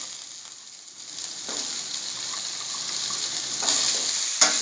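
Green beans sauté in a pan with onion and green chili, a continuous sizzle with scraping stirs that grow a little louder, ending in a sharp clink of the spatula on the pan.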